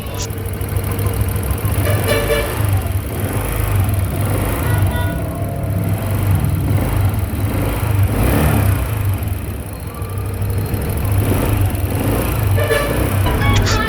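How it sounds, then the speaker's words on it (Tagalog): A Honda Click 125 V3 scooter engine with a scratched cylinder block runs steadily with a rough, uneven idle and light revving, a faint ticking knock running through it, close and continuous with no talk. "rev lang natin ng konti pero may lagatik pa rin"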